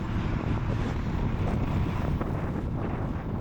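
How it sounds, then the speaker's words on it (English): Strong headwind buffets the microphone during a cargo e-bike ride on a long off-grid route, producing a loud, continuous low roar with gusty fluctuations and no talking. "The headwinds made the ride less comfortable than the last time I came along here"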